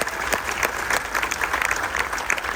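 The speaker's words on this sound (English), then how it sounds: "So give a round of applause for all the parents in the room." A room full of people claps for the parents aboard a cruise ship military tribute, a dense, lively burst of applause heard close and loud, with no voices over it.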